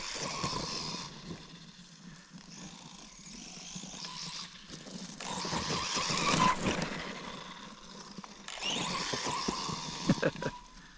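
ARRMA Quake two-wheel-drive RC car skidding under braking, with bursts of motor whine and tire scrub rising and fading in several passes, close and fairly loud.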